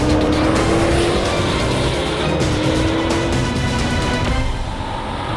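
A 3.8-litre twin-turbo V8 in a Maserati Levante Trofeo SUV roars steadily as it accelerates hard, loud and close, with a brief tire squeal partway through.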